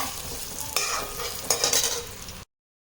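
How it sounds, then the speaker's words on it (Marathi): Idli pieces being stirred with masala in a pan, a close scraping and clattering stir over a steady sizzle, cutting to silence before the end, with no talk. "अशा प्रकारे चांगलं मिक्स करते"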